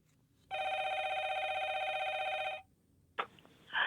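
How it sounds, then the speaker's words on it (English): A telephone rings on an outgoing call to a resident of North City, St. Louis: one long steady electronic ring tone lasting about two seconds, fairly clear and close, followed by a brief burst of noise. "So I'm calling Miss D in North City, who lives on this street, to help me out"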